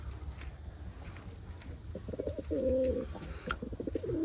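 Pigeons of a breeding flock coo in low, rounded bursts close by, a few soft calls rising and falling over steady background noise with faint chirps.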